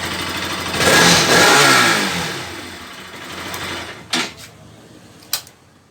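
A Pulsar RS 200 motorcycle on its stock exhaust revs up loudly nearby, the engine note swelling and then fading back, followed by two sharp clicks.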